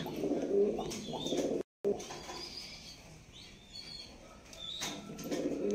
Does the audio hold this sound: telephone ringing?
no